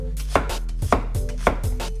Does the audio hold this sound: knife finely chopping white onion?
yes